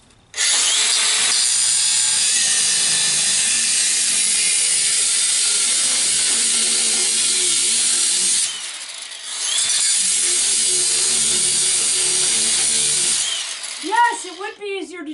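A loud power tool grinds continuously through non-aluminum metal, throwing sparks, with a short pause before cutting resumes; it stops near the end.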